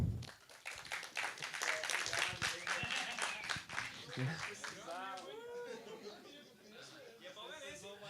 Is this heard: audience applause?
yes